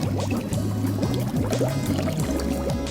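Sanitizer liquid poured into swimming pool water, a steady bubbling, gurgling pour that runs close and fairly loud throughout with slight rhythmic surges.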